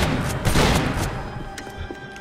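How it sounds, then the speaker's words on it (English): Gunfire from shooting in the video game Max Payne 3: a dense burst of overlapping shots and impacts, loudest in the first second, then thinning into scattered pops and thuds. "Oh, you better believe I'm gonna keep shooting!"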